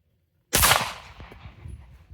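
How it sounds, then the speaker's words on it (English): A single pistol shot from standing slow fire with Blazer ammunition: silence, then one loud, sharp crack with a ringing tail that fades over about a second and a half. "we'll see if the groups look any different at all just from me doing a normal standing slow fire"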